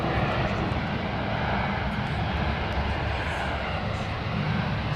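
Boeing 787 Dreamliner airliner departing, a steady loud broadband jet roar with deep rumble that holds constant and close throughout, with no other sounds standing out.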